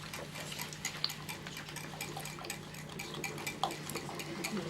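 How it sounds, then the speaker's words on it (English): Three eggs being mixed into a chocolate tart filling in a 9-inch dish, with a quiet, steady run of clicking and scraping from a utensil against the dish and no talk. "This is 3 eggs, because it's a 9-inch dish. And you just mix it all together."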